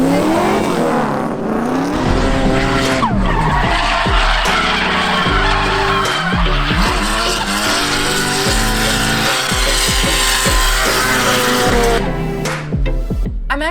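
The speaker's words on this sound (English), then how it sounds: "Guys, I am at the drift show right now, and these cars" Drift cars at a drift show skid and squeal their tires loudly, engines revving and wailing in rising and falling sweeps that stay close and intense throughout, with no talking.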